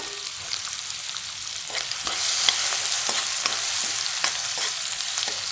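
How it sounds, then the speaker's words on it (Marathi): Onion, asafoetida and curry leaves sauté in hot oil with cumin and mustard seeds, a bright, steady sizzle close by, punctuated by repeated spatula strokes against the pan. "थोडासा हिंग कढीपत्ता आणि कांदा कांदा जरा लाल होतोपर्यंत परतून घ्यायचा"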